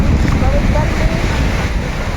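Sea waves and gusting wind on Ras El Bar beach: a loud, rushing wash of surf and buffeting wind noise close to the microphone, with faint voices in the background.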